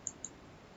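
Two quick, faint computer mouse clicks, close together near the start, while selecting the iReport plugin in software; otherwise quiet.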